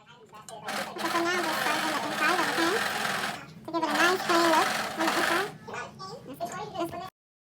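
Sewing machine stitching jumpsuit fabric in rapid bursts, a close buzzing whir that runs for a few seconds, pauses, then runs again before stopping short; no speech is heard.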